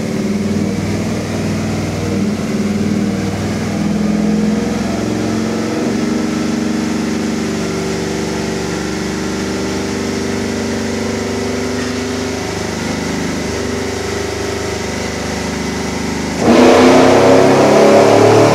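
A 1979 Dodge Lil Red Express with a cammed 5.3 LS swap, Hooker headers and an Elgin cam roars on a dyno, a loud sustained engine drone with pitch sweeping up and down, ending in a sharper surge.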